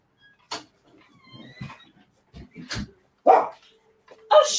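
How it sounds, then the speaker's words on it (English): Several sharp barks from dogs indoors in a home, spaced irregularly with quiet gaps between them, fairly close and loud, with faint household sounds underneath. "Shut up, dogs."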